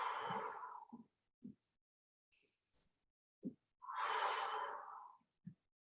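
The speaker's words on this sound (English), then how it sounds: "Just breathing, breathing, breathing." Breathing during a yoga stretch in a backbend and dancer pose session: two long airy breaths, one near the start and one near the end, separated by silence and a few soft short puffs, close and moderately loud with no talk.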